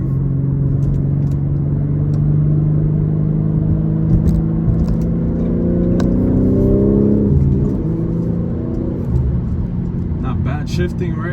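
A manual 2024 BMW G80 M3 pulls hard with a deep, loud engine note rising through the revs, then dropping sharply on a gear shift before climbing again, with tire and road noise underneath.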